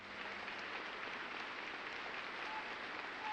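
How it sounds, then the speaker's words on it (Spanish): Archival recording of sustained applause in an ovation for Stalin: a dense, even wash of many hands clapping, steady and distant-sounding, with no break across the stretch. "las ovaciones a Stalin eran tan largas porque nadie se atrevía a ser visto como el primero en dejar de aplaudir"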